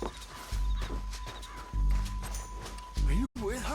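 Horse hooves clip-clop in Red Dead Redemption 2 in bursts of heavy, close footfalls, with voices talking over them and a brief whinny-like sound near the end.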